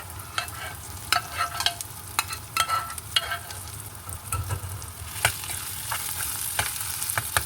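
Smashed boiled potato masala with onions and ginger-garlic paste frying in a pan, stirred with repeated scraping and tapping strokes over a constant sizzle, close and fairly loud, with no voices.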